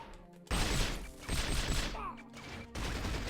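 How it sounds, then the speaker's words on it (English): Bursts of gunfire in the 007 From Russia With Love video game come in quick rapid-fire volleys, loud and close, separated by short pauses and game sounds. "you can shoot the radio out of his hand"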